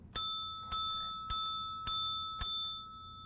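A bell rings five times at a steady, even pace, each bright clear ding decaying quickly, close and alone, struck by presses during an infant CPR chest compression demonstration.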